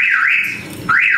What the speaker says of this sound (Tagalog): Try natin yung shock sensor kung gumagana.